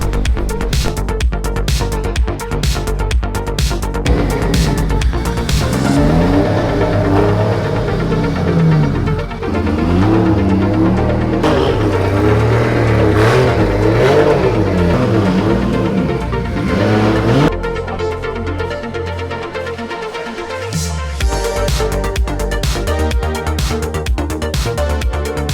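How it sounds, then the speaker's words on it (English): A Lexus RC fitted with a 2JZ engine laps Monroe Evergreen Speedway, its loud, close engine revving up and down through the gears, with a brief lull before the roar builds again. "We out here at Monroe Evergreen Speedway testing out the RC."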